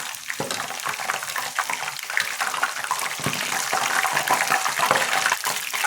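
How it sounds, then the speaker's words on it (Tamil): Kara boondi fries in hot oil while being stirred, giving a loud, continuous close sizzling hiss with scattered small pops and occasional scraping knocks of the stirring utensil. "நல்லா அந்த சலசலப்பெலாம் அடங்கி பொன்னிறமாக வர இப்படி கிண்டி விட்டுக்கிட்டே இருக்கணும்"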